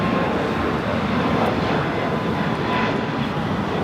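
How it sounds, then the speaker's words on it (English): A Breeze Airways Airbus A220-300 takes off, producing a steady, broadband jet roar that stays loud and constant throughout. "825, taking off to Akron on the A220-300."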